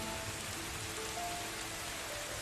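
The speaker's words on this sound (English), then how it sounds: "Rain should drown out any noise you make." Steady rain falling at night, a dense even hiss of drops on surfaces with no other sounds, continuous and moderately loud.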